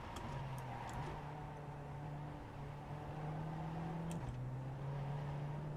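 Race car engine in the iRacing video game, a steady droning hum that shifts pitch in small steps as the car accelerates and slows through turns, continuous and alone.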